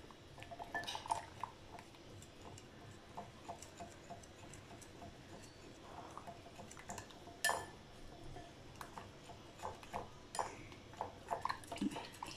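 Egg tart filling mixed in a bowl, faint close clinks and ticks of a utensil against the bowl in an irregular rhythm, with occasional sharper knocks and quiet scraping.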